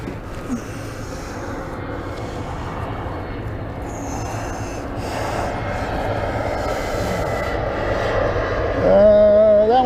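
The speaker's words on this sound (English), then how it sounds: "here comes an airplane." A United airliner passes overhead as a broad, steadily building roar that swells louder toward the end, with outdoor background noise.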